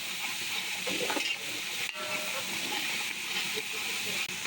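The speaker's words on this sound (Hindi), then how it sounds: "टमाटर अदरक लहसुन को अच्छी तरह से भून लिया हमने" Tomatoes with ginger-garlic paste sautéing in a pan for a restaurant-style jungle pulao, a steady close hiss and sizzle with faint stirring scrapes throughout.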